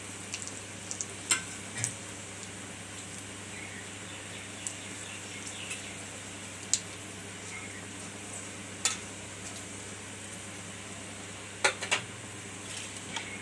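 Bengali five-spice, two bay leaves and a dried chilli frying in a few spoonfuls of white oil, a quiet steady sizzle with scattered small pops and crackles, no voices over it.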